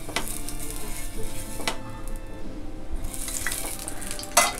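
Sorghum flour amboli batter on a lightly oiled pan gives a continuous close sizzle, with a few scraping and clinking touches of a spatula, and no talking.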